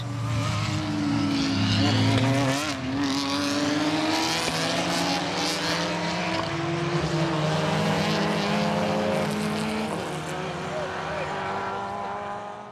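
A Porsche race car at speed during a Portuguese open speed championship round in Braga, its engine droning loud and continuous with shifting pitch sweeps as other cars pass, under a commentator's voice.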